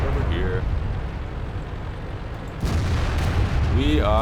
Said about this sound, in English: Oh, we're getting shot from the side over here.